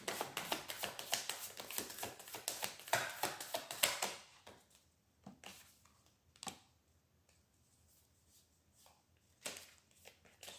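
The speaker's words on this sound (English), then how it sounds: "Straighten up my cards. I'm going to pull a few more." Tarot cards straightened and shuffled, a dense run of close, crisp riffling clatter for a few seconds, then quieter scattered taps and soft card handling.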